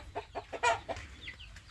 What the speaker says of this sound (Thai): อันนี้จะเป็นคอก ไก่ไข่นะครับเดี๋ยวจะเก็บไข่กันทุกวันนะครับ